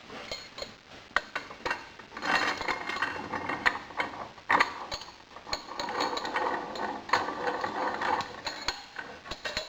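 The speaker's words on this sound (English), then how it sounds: "Now I'll do a trial assembly of the vise nut." Trial assembly of a machined iron vise nut: close, fairly quiet metallic clicks, taps and ratcheting clatter of parts being fitted and turned, with no talking.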